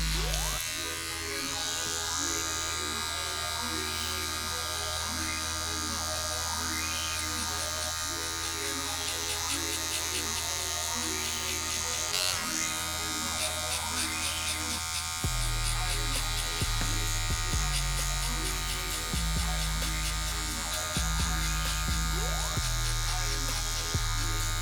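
Electric hair clippers buzz steadily and close up while cutting a medium fade on curly hair, the motor tone dipping and shifting as they pass through the hair.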